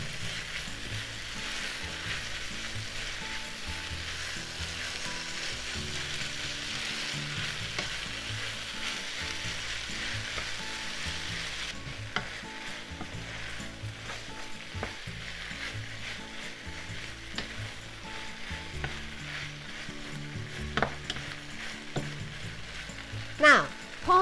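Pork and onion sizzle steadily in a hot pan, with frequent scraping and stirring clatter over the continuous frying hiss and a few sharper knocks near the end.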